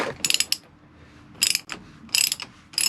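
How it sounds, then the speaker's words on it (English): A ratchet clicking as it loosens a 36 mm nut on a Volvo 270 boat engine, in four close, crisp bursts of rapid ratcheting separated by short pauses. "To take this off, you can use a fancy ratchet like this."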